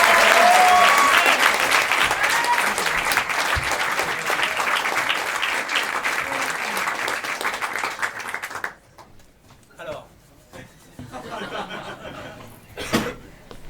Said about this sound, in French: Je vous demande d'applaudir bien fort.